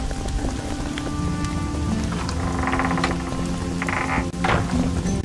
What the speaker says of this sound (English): It only ever rains these days.